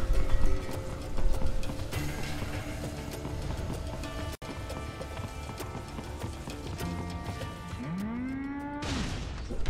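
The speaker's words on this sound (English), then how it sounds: "Ooh, the moo cows!" Cattle moo in the video game Metal Gear Rising: Revengeance, low lowing calls rising out of busy game ambience with clopping and rumbling, one long moo sweeping near the end.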